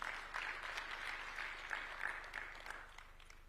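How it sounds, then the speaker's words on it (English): Audience applause at a judges' swearing-in ceremony presided over by President Ruto, a steady wash of clapping that holds for the whole stretch at moderate, fairly distant level with no talk over it. "A round of applause for him, please."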